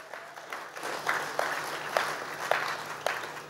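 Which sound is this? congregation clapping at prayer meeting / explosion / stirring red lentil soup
congregation clapping at prayer meeting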